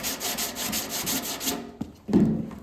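An inline sander works over body filler on a car panel with rhythmic back-and-forth scraping strokes, close and loud, pausing briefly before a final heavier pass.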